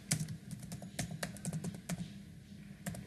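Rapid, close typing on a computer keyboard while writing HTML code, with uneven bursts of light key clicks and a few louder taps, heard alone.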